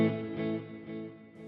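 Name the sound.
guitar with delay and reverb effects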